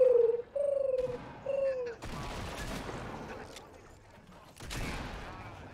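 Shotgun blasts in the Fortnite video game, a few sharp booming shots with a sustained noisy burst around the middle, loud and close, mixed with excited voices talking over the action.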